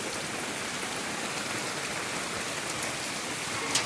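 Steady, dense monsoon downpour hissing on surfaces, loud and unbroken, with no voices.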